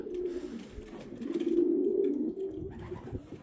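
Pigeons coo nearby with soft, low, throaty rolling calls that swell in the middle and trail off, with no talking over them.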